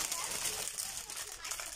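Plastic shopping bags crinkle and rustle continuously at close range, with a soft, steady texture and faint background voices.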